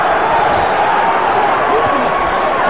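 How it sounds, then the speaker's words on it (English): A boxing arena crowd roars without a break during a Tyson–Holyfield heavyweight fight, a loud, dense wash of yelling voices that sounds more like general roaring than clear chanting. "Many yelling Tyson."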